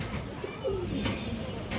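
A soft Rampuri pigeon coo rises once, faint and close, amid quiet background noise with a voice murmuring.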